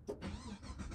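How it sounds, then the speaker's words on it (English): An Australian-built police car with a modern LS engine cranks and catches, a short broadband burst that settles into a steady running roar, close and loud for about a second with no talking. "if I hold this and start the car"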